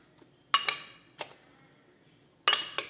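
A utensil mixes avocado egg salad in a bowl, giving three separate bursts of clinking and scraping with quiet pauses between them, close and fairly loud.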